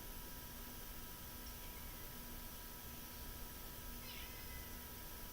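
Faint, distant meowing from a cat sits under a steady hiss of background noise in a quiet early-morning room.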